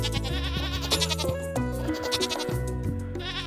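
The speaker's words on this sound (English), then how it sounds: "See how the goats are doing first thing." Goats bleating in the farming video game Stardew Valley, a series of repeated nasal bleats in quick succession, clear and close over light game music, with no talk.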